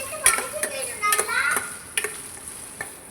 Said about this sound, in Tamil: உருளைக்கிழங்கு போட்டுக்கிட்டு வதக்கிக்கணும்